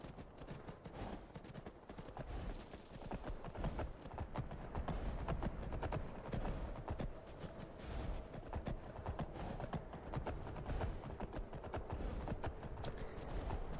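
A horse trots in Skyrim, its hooves beating a steady, brisk clip-clop that runs the whole length over a dense ambient game backdrop.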